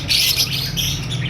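Red-eyed albino personata lovebirds chirp in a steady, busy stream of high twittering calls that runs throughout without pause, with a low background hum underneath.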